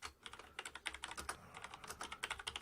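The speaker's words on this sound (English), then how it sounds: "type in a message" Rapid, steady typing on a computer keyboard as a message is entered, close and clear with dense clustered keystrokes and no talking.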